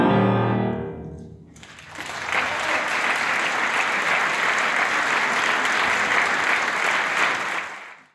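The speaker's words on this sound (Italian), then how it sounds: "Il pubblico della Camerata ha molto gradito il concerto, tributando ai musicisti lunghi, convinti applausi." After a voice trails off, a concert audience bursts into long, steady applause for the musicians that holds evenly for several seconds before fading out at the end.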